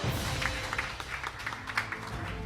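An audience at a Democratic Party joint campaign rally in Daejeon applauds in a steady, moderately loud wash of clapping that continues evenly throughout, with faint voices mixed in.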